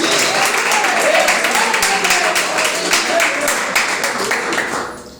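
Congregation clapping at a Portuguese-language church service, a loud, continuous patter of many hands with a voice rising over it, tapering off at the very end.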